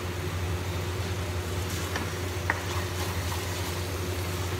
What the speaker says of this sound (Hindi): अब हम इसको तब तक भूनेंगे जब तक ये पूरा घी नहीं छोड़ देता।